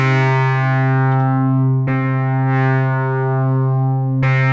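An Instruō Seashell synthesizer module drones a sustained, buzzy harmonic tone built from two parallel waveforms with high diffusion, steady and loud, with a few brief clicks or retriggers along the way.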